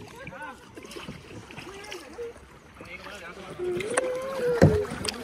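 A kayak paddles through mangroves near Delta Point Beach at Kodi Bengre, Udupi, with soft paddle strokes and a few sharper splashes near the end while people talk quietly nearby.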